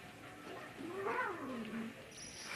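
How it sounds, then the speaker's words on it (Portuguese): Cats fighting, a yowling caterwaul rising and falling over about two seconds, with a higher squeal near the end, fairly faint and alone. "Os gatos tá brigando."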